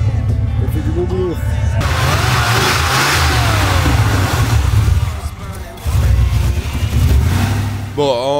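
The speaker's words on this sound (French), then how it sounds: "en un coup d'accélérateur, on comprend que la New Yorker, visiblement, ça va pas mieux" A Chrysler New Yorker engine in poor running condition revs hard with a single press of the throttle, rising and falling loudly and close by before settling back toward idle.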